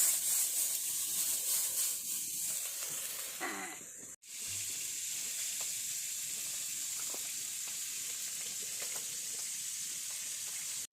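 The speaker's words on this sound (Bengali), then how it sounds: "দেখো আমার তিনটা ভাজা হয়ে গেছে" Steady oil sizzling and crackling, fairly close, as ground shrimp patties fry, with a brief scrape partway through and a short dropout before the frying continues.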